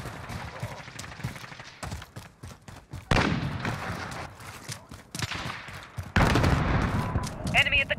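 Rapid bursts of gunfire and machine-gun fusillades crackle through a team deathmatch video game firefight, loud and near, with heavier impacts and a short voice callout mixed in.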